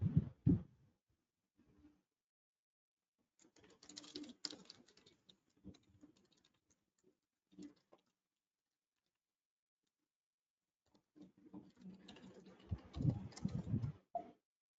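Someone types on a computer keyboard in short, quiet bursts of key clicks separated by silences, with a longer cluster of keystrokes near the end.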